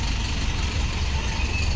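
A Rameshwar AC sleeper bus idles nearby, a steady low diesel rumble with a faint hiss on top, holding level and unbroken throughout.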